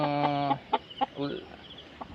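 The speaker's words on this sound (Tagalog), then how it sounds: "yung mga mga babae na manok medyo madami-dami yung available natin" Hens cluck in a barnyard: a drawn-out squawk followed by several short, spaced clucks over a steady background hum.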